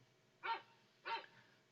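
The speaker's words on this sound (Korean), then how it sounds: "보통 주문이 들어오면 개 짖는 소리가 기본음으로 되어 있어서 알람이 울립니다." A dog-bark alarm from an order-collection program sounds twice, two short, clear barks about half a second apart, crisp and close against a quiet background.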